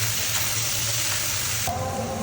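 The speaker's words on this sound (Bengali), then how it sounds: "মূলাটা দিয়ে সব মশলার সাথে আমি ভালো করে ভেজে নিচ্ছি" Boiled radish frying with spices in a pan, a steady close sizzle with faint stirring scrapes, continuous and even over a couple of seconds, no voices.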